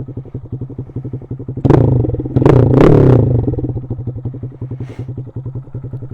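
A small Honda Grom motorcycle with a cam and big bore kit idles with a steady, rapid thumping pulse, then gets a couple of quick revs that rise and settle back to idle, close and loud.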